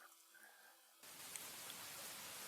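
Rain in the Roblox castle-building game starts abruptly after a quiet moment, then keeps up as a faint, even patter of drops.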